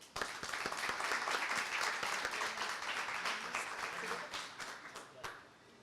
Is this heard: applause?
yes